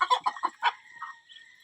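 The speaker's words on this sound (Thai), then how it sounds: "มาดูรูปเป็ดบาบารี่นะครับทุกคนอายุหนึ่งเดือน" One-month-old Muscovy ducklings calling close by: a quick run of five or six raspy chirps followed by a couple of softer, fading peeps.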